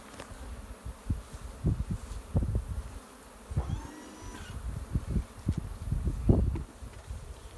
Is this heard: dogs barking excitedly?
no